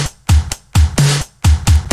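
A distorted, grungy drum loop programmed in FL Studio, with a booming overdriven kick, hi-hat and a crunchy snare hitting in a tight, punchy repeating pattern; loud and dry, with no voices.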